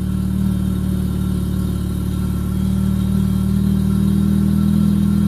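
A car engine runs just after starting, a steady low mechanical drone with a rough, uneven edge from a misfire, close and loud, with no voices.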